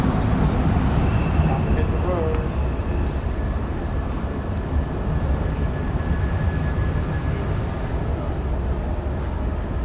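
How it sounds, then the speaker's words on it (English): Steady, dense rumble of a train to Arlon rolling into a station nearby, with faint squeals and a brief muffled voice over the continuous mechanical noise. "So it looks our train's just turning up now, right by here, to Arlon."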